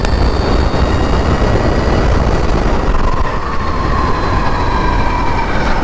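Sur Ron electric dirt bike fitted with street wheels, ridden uphill at full throttle: a loud, constant rush of wind and road noise with a faint motor whine rising in pitch near the end.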